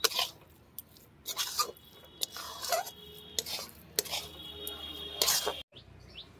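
A spoon scrapes and clinks against a pan while stirring sticky motichur laddu mixture soaked in syrup, with irregular bursts of scraping and knocks, fairly close, and faint bird chirps in the background.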